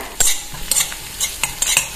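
A spoon scrapes and stirs in a pan at close range, several quick strokes over a soft sizzle of small onions and green capsicum frying in oil.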